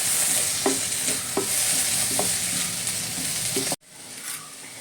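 Tomatoes fry and get stirred into a bitter gourd curry, a steady close sizzle broken by regular scraping strokes of a spoon, then the sizzle drops suddenly and continues more quietly.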